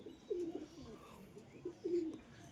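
Teddy pigeons cooing nearby, soft low coos in two short bursts over quiet background.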